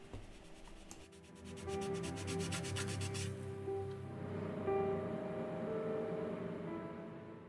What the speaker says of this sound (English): I take a fine grade sanding sponge and remove any surface imperfections before the final varnish layer.